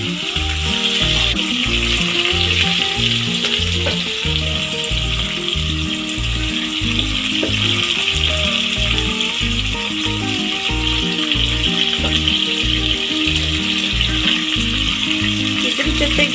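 Onions frying with cardamom and black pepper for Hyderabadi mutton biryani, a loud continuous sizzle with a rapid rhythmic rattling of stirring throughout, no talk.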